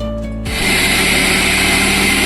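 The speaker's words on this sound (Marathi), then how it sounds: "लसूण कोथिंबीर वाटून घेता घेणार आहे मिक्सरमध्ये" A motor hums, then a mixer grinder grinding garlic and coriander leaves kicks in with a loud, steady whirring drone that continues to the end.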